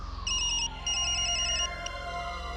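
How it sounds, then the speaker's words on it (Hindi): A phone rings with a repeating electronic ringtone, short trilling bursts in a pattern over a low background hum. "मॉम का फोन।"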